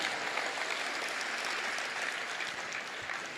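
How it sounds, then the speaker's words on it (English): An audience at a Les Brown motivational talk claps steadily and enthusiastically, a dense wash of applause filling the room without pause. "Give Scott a round of applause,"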